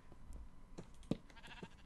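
A sheep bleats in Minecraft, a couple of short, quiet cries over faint game ambience with no talking.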